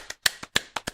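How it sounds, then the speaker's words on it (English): A few people clap briefly up close: six separate claps, uneven in spacing and fairly quiet, over about a second, cheering Kendrick Lamar. No voices come through. "round of applause"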